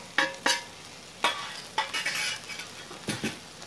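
Spoon stirring coriander, pepper, turmeric and garam masala powders frying in a pan for chicken piralan, giving a few sharp scraping clinks against the metal at irregular intervals over a soft sizzle.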